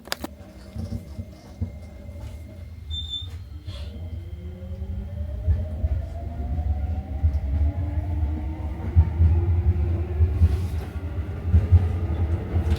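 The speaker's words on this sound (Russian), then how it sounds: "рядовая поездка на метро в Токио выглядит следующим образом" A Tokyo subway train rumbles along, its low drone steady with rising and falling motor whines and occasional clicks, no voices present.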